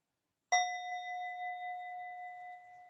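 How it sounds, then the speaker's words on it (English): A small hand bell rung once to close a two-minute mindfulness session before yoga, its clear ding ringing out alone and fading slowly over a few seconds. "I'm just going to ring my little bell."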